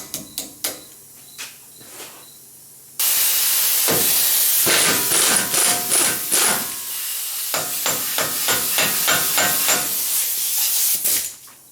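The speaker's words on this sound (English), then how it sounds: "Now I'm going to remove this axle nut." Axle nut coming off the front hub of a 2007 Nissan Xterra: a few sharp clicks, then a loud, close hissing, rattling tool noise that runs in pulsing bursts for several seconds before cutting off.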